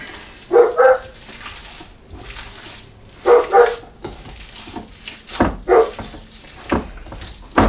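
A shepherd dog barks from outdoors, wanting to be let in, in loud repeated bursts of two or three barks with short pauses, over faint kitchen sounds and running water, no talking.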